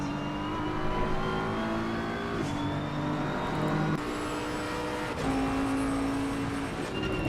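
Several race cars, a Porsche among them, run together on a circuit in a Jandal series race, engines droning steadily with shifting pitch as they rev and change gear, loud and continuous throughout.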